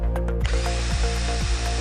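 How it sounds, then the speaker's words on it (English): A power drill bores holes into a wall to mount a range hood plate, its steady whine running continuously with repeated bursts as the bit bites in, close and loud with no talk. "Drill the holes where marked."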